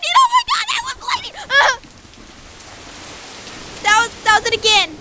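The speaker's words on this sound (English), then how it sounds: "It's raining so hard." Heavy rain pours in a steady hiss, briefly heard on its own between high, excited voices that talk and exclaim at the start and end.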